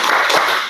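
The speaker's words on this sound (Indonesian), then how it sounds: "Tepuk semangat." Children in a classroom with their religious teacher give a quick rhythmic spirit clap, a short loud burst of hand claps lasting under a second.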